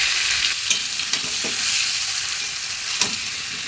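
Potatoes fry in hot oil with white cumin and two dried chillies in a wok, a steady close sizzle broken by a few spatula scrapes and taps, no talk.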